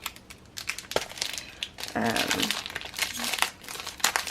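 Chipboard stickers are pulled from their plastic package with loud, close crinkling that comes in irregular bursts and grows thickest in the middle, while a person speaks around it.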